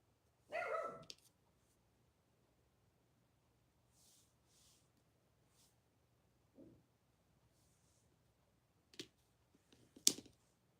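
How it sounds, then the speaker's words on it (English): A dog gives one sharp, fairly close bark at the start. After a long quiet gap, a few fainter, scattered yips and clicks follow near the end. "My dog's barking."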